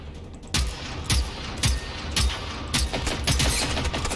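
Gunfire in the video game Generation Zero rings out as a series of about seven loud, evenly spaced shots, each with a booming low thud and a sharp crack, with no talking.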